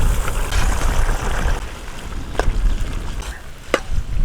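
Banana stem pieces drop into a simmering Tamil intestine curry, kudal vazhaithandu kuzhambu, making a steady frying sizzle with a few sharp clatters from the pan. Close and moderately loud, with no talk.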